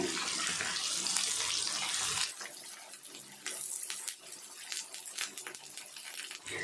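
Sardines fry in a pan with curry leaves after the fish is turned to its second side. A loud, steady sizzling hiss lasts about two seconds, then softens into lighter, uneven crackling and spitting.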